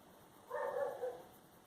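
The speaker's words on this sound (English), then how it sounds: "Apologies too if you can hear my neighbor's dogs." A neighbour's dog barks once or twice in a short, muffled burst, distant and faint, from nearby indoors where the room is otherwise quiet.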